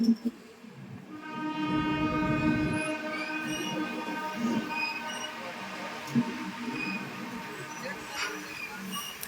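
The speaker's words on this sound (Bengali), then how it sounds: "এই হচ্ছে আমাদের মুম্বাই মেল যেটা আসানসোলে দাঁড়িয়ে রয়েছে" The Mumbai Mail train's horn sounds with long sustained tones over a low rumble of rolling wagons at Asansol railway station, plus short bursts of clatter; no clear talk.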